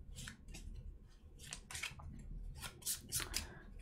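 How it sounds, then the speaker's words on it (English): A deck of paper playing cards is shuffled during a tabletop game, heard as several quick, riffling bursts in a fairly quiet room, close to the listener. "So let's give their deck a shuffle."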